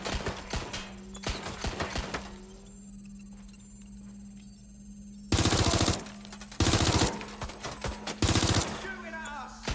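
Gunfire in Watch Dogs Legion: rapid automatic bursts and single shots crack in clusters, loud and sharp, with quieter gaps between volleys and a steady electronic hum beneath; brief voices occasionally heard.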